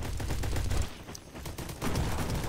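Rapid automatic gunfire in the Roblox shooter Bad Business, with loud bursts of closely spaced shots, a short lull, then another burst.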